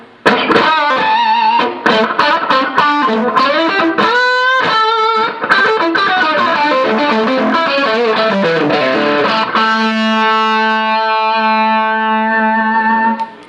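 An electric guitar runs through an Amptweaker pedal on its Tight Rock setting, playing loud distorted riffs and bends, then closing on a long ringing chord that sustains to the end.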